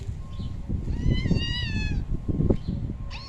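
Several pet cats meow in a quick string of drawn-out, rising and falling calls up close, with rustling and handling noise underneath and a short final mew at the end.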